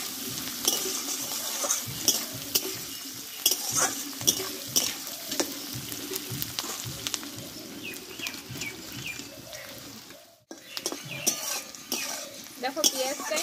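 Onions fry in a pan with a soft, steady sizzle and repeated spatula scrapes. Birds chirp faintly in the background, and the sound briefly cuts out near the end.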